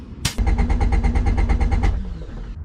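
A Honda CRX engine cranks over steadily on the starter during a compression test, a fast even chugging rhythm of about a dozen strokes, loud and close, stopping abruptly.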